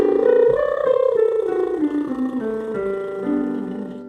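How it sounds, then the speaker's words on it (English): A double arpeggio lip buzz vocal exercise, a steady buzzing voice sliding up and down through pitch steps in one continuous breath, close and clear with no talking. "So let's start off with a double arpeggio lip buzz."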